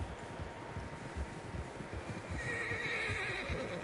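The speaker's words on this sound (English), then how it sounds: "Horses, quite a few of them" Several horses in the Red Dead Redemption 2 video game whinny over trotting hoof clip-clops and wind, with a shrill neigh rising clearly toward the end.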